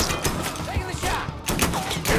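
Gunfire in the video game Mafia III, a few sharp shots cutting through dense, busy game noise, fairly loud and close.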